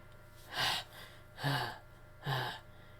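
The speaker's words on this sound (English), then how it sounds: "Calm your breathing." A person takes three heavy, panicked breaths in a slow, even rhythm, loud and close, with quiet between each gasp.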